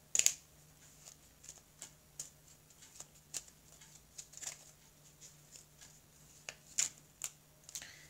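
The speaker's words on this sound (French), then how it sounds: "je vais prendre une carte ici, mes guides" Tarot cards are shuffled and drawn on a table, giving soft, scattered flicks and snaps with a few sharper clicks. The sounds are quiet and close, with no talking.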